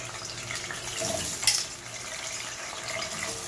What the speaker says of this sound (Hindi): गर्म हो चुका है, इसके अंदर अब मैं फ्लावर ऐड करूँगी फ्राई करने के लिए।